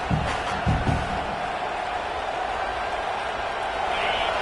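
Football stadium crowd roaring steadily on a fourth-down play, a loud, dense wash of cheering and noise throughout, with a few louder thumps or shouts near the start.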